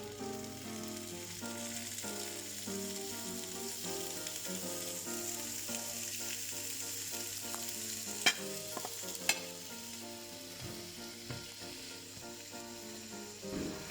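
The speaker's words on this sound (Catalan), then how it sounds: "Fregim les pastanagues a la paella amb un raig d'oli." Carrots fry in a splash of oil in a pan, giving a steady soft sizzle with occasional stirring clicks and scrapes, under background music.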